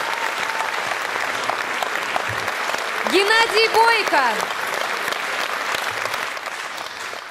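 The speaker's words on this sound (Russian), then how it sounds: "по-моему, вас хотят еще услышать, увидеть и подарить вам свои горячие аплодисменты" Steady applause from a concert audience for a singer fills the whole stretch, with a voice calling out over the clapping midway.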